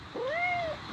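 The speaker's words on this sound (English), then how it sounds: "You brought a cat with you." A single clear meow from a cat, rising then falling over about half a second, close and fairly quiet against a soft background hiss.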